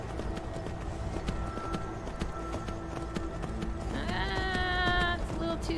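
A horse in Skyrim picks its way down a steep mountain slope, hooves clopping in an uneven run against game ambience and music, steady and mid-level, with a brief melodic game cue near the end.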